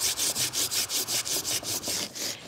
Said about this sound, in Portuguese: Estou a cortar a abóbora com o serrote